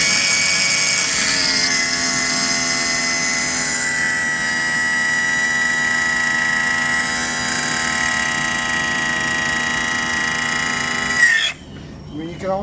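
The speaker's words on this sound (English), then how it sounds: "you hear the plane" An airplane flies overhead near a lake, a loud sustained engine roar with whining tones that holds steady, then cuts off abruptly near the end.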